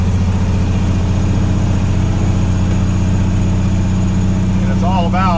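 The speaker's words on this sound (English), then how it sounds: "So I'm riding the Jake brake down. It's kind of loud." A truck's Jake brake engaged while driving downhill, a loud, steady low staccato engine rumble with raised RPM running throughout; a voice briefly cuts in near the end.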